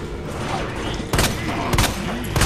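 Gunshots in Resident Evil 2 Remake (One-Shot Demo): three sharp, loud shots spaced unevenly over a dull game background, with a player's voice faintly underneath.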